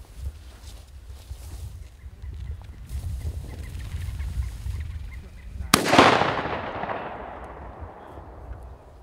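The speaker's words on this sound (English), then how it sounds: "Got the first shot" A single sharp gunshot cracks out midway through a quail hunt in open Kentucky country, fairly close and loud, then its echo trails off, with low wind rumble and rustling before it.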